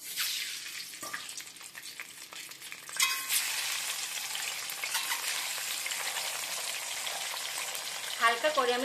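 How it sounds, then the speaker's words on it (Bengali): Eggs frying in hot oil give a continuous crackling sizzle with occasional stirring scrapes and spatters, close up and steady, swelling slightly partway through. "একই তেলে আমি ডিমগুলো ভেজে নিচ্ছি।"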